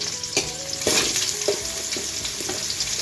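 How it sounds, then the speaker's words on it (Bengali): Potatoes fry in a pan with a close, continuous sizzle, punctuated by clattering stirs and scrapes of a utensil. "প্রথমে আলুগুলোকে ভেজে নেব"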